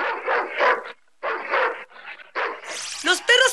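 A dog barks and yips in short bursts, close by, mixed with voices talking, ending in higher-pitched excited yelps.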